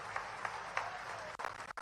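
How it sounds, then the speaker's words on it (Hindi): A crowd at a public inauguration event with the chief minister claps, a faint, distant rush of many hands that briefly dips and cuts out near the end. "अपने आप का जोरदार ताली बजा करके इतने अच्छी सौगात के लिए"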